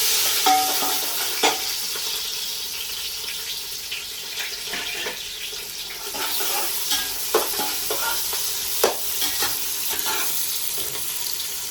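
Onions and green chilies fry and get stirred in a pan for mushroom pulao, a steady sizzle with repeated scraping and clinking strokes throughout, no talking.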